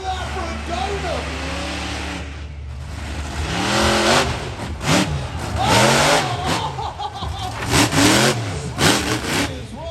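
A monster truck engine revs loudly through a donut at the UK Monster Truck Nationals, a mid-pitched roar surging and falling over a rumbling crowd, with an excited commentator talking throughout.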